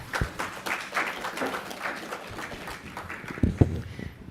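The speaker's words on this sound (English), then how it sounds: "A round of applause once again for our panel." Audience clapping for a panel at a signing ceremony, a moderate patter of hands that grows into a few sharper, louder claps near the end, heard alone without speech.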